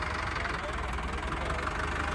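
A Swaraj 744 tractor engine idles close by, a steady low diesel rumble with a faint knocking pulse, continuous and unchanging over the short stretch.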